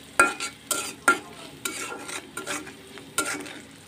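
Leftover rice fried in a pan with salt, turmeric and panch phoron, a spoon scraping and stirring in uneven strokes with sharp clacks against the pan over a low sizzle, close up.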